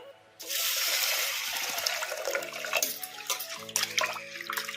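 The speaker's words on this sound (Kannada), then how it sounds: "ಈಗ ಇದನ್ನು ಕ್ಲೀನ್ ಮಾಡ್ಕೊಂಬಿಡೋಣ ನೀರು ಹಾಕಿ" Water runs steadily from a tap into a vessel of pigeon pea lentils (toor dal) for rinsing, a continuous close splashing stream lasting almost the whole moment, with faint clatter and no talk.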